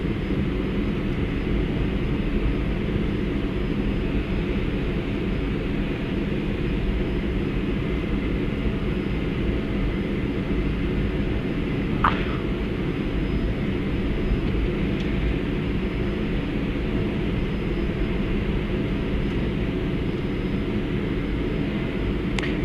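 Inside the cockpit of a Lufthansa training jet in manually flown flight, a steady, dense engine and airflow roar fills the cabin without a break, with one faint click partway through and no speech.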